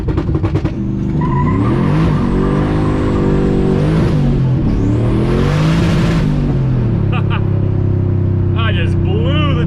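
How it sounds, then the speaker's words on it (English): A 700-horsepower sleeper car launching hard in first gear, engine revving loudly and rising in pitch as the tires spin and squeal, then dropping and settling to a rumbling idle with voices talking over it. "I just blew the tires off"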